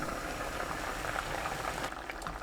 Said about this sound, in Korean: 뚜껑 닫고 센 불로 끓입니다. 바글바글 끓으면 중불로 낮추고 뚜껑 열어주세요.